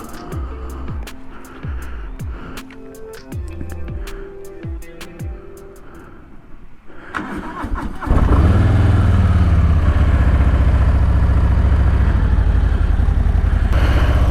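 A 2022 Harley-Davidson Low Rider S 117 motorcycle pulls away and is ridden. Engine rhythm pulses through gear changes at first, then settles into a loud, steady roar mixed with wind rush.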